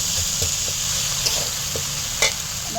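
Spice masala with ground turmeric frying in a pan, a loud, steady sizzle and hiss close by, broken by soft scraping stir strokes.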